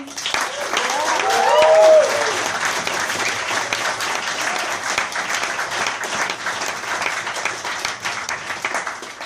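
Applause for Harry Pope on drums fills the Vortex Jazz Club in London, a full burst of clapping that peaks early and then carries on steadily, with a voice speaking briefly over its start.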